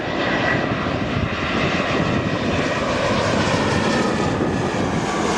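A Ryanair Boeing 737-8AS roars through its takeoff at Lisbon Airport, a continuous loud broadband jet engine rumble and whine holding steady throughout, with no voices.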